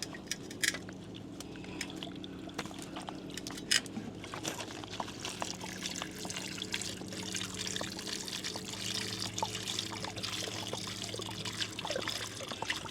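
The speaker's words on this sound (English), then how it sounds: "So I'm going to dump it out from my inlet." Water pours out of an RV water filter inlet in a continuous splashing stream, with scattered drips and trickles over a low background hum, lasting throughout without any talk.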